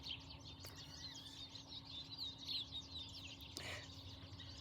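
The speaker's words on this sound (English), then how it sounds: "They say, listen to the birds." Faint birdsong outdoors, a few small birds chirping and trilling at a distance over a quiet low hum, with one brief closer flutter near the end.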